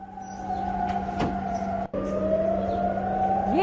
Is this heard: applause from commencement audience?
no